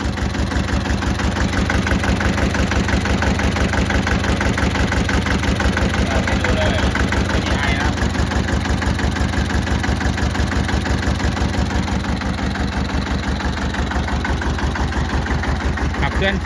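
A used 4WD farm tractor in good running condition idles with a loud, steady, rhythmic diesel chug that lasts throughout, and a voice is heard over the engine.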